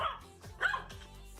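A small dog barking at a big dog: a couple of short, sharp yappy barks close by, quick and high-pitched, with a brief whimpering tone between them.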